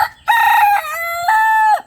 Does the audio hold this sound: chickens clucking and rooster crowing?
yes